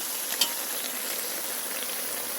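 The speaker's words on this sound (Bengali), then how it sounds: "এক কষানো আমি এখন ঝোল দিয়ে দেব, গরম ঝোল।" Steady, loud sizzle and frying hiss of hot broth poured onto meat browning in oil on a wood-fired stove, continuous with a brief spattering pop early on.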